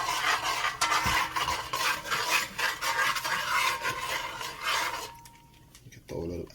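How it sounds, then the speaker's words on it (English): Spoon scraping and rubbing around a pot of Jamaican curry chicken, a steady close rasping stir that runs for about five seconds before fading, with a brief knock near the end. "stir it up."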